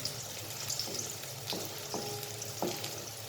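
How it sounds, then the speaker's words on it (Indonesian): Spice paste for stir-fried water spinach frying in a pan, a soft continuous sizzle with occasional scrapes and knocks of stirring, close and fairly quiet, no talk. "Kita aduk-aduk sampai tercium wangi ya bumbunya ya"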